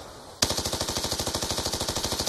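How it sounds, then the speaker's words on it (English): Rapid automatic gunfire from a submachine gun in Call of Duty: Black Ops 2 bursts in after a quiet start, a loud steady rattle of shots continuing to the end. "Uh-oh, somebody's shooting at me."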